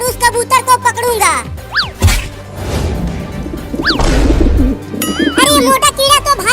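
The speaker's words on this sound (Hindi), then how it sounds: "वहाँ एक कबूतर नीचे घूम रहा है" A cartoon pigeon coos in repeated, warbling, bird-like calls alongside slapstick crash and whoosh effects. The sounds are loud and close in a comic animated scene.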